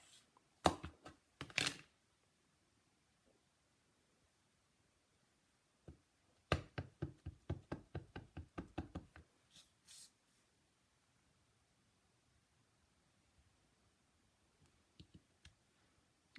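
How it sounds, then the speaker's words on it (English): A rubber stamp pressed onto a paper card during card making: a quick burst of close, crisp clicks and taps, then a denser run of rapid tapping and rocking contacts, followed by a few faint scattered ticks in a quiet room. "I'm going to stamp the girl on here"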